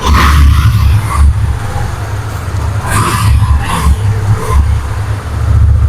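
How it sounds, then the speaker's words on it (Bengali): A Yamaha FZS version 2 motorcycle in good condition idles steadily after starting, its low engine rumble continuous and fairly loud, with a few passing whooshes from nearby traffic. "স্টার্ট করলে একদম সাউন্ড একদম খুব ভালো কন্ডিশন গাড়ির সাউন্ডটা শোনেন দর্শক"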